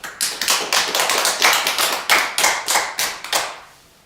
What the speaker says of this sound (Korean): 우리 다같이 2020년 이 한 해를 지켜주신 하나님 앞에 영광의 박수를 올려드립니다